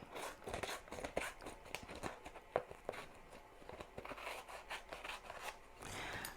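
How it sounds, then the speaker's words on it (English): Applique scissors snip close around an embroidered sequin design on fabric, giving a run of small sharp cuts and faint crisp clicks at an irregular pace, with quiet rustling of material in between. "in with my applique scissors and then get all in the nooks and crannies of the design"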